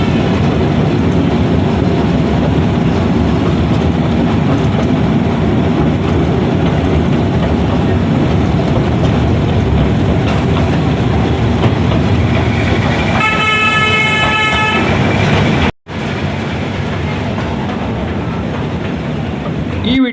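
A toy train runs at Kadri Park with a loud, continuous rumble and rattle of wheels. A bright horn toots near the end, and faint voices are heard under the noise.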